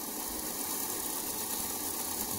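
A freshly cleaned Fleischmann V42 model locomotive motor runs noisily, a steady loud whirring buzz with a broad hiss that holds constant throughout, no voices.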